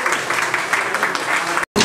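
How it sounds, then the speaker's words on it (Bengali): Crowd clapping at a restaurant opening ceremony, a dense, even burst of many hands close by that cuts off abruptly at the end. "সবাই একটু হাততালি দেই।"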